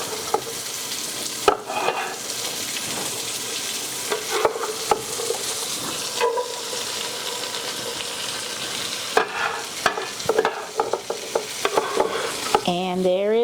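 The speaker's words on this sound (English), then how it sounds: "we're gonna add in our mirepoix, and we're gonna let it saute up in the bacon fat" Mirepoix of onion, celery and carrot sautés in bacon fat, sizzling steadily in a pot, with occasional spoon scrapes and stirring clatter over the constant frying hiss, close and fairly loud.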